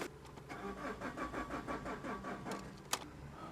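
A Vauxhall Astra van's engine cranks and churns in a steady pulsing rhythm during a jump start attempt, close and moderately loud, ending with a brief sharp click near the end.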